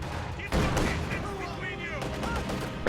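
Gunfire from a T-70 light tank in a World War II strategy video game, attacking a Panzer Fusilier infantry squad: loud, dense bursts of shots and crackling impacts over steady battle noise, with a voice speaking faintly at times.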